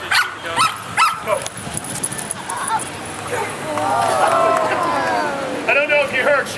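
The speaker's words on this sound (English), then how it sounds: "I don't know if you heard, she barked at it there." A dog barks a few times during a frisbee dog show at a hot dog festival, short yips amid outdoor crowd noise while people talk nearby.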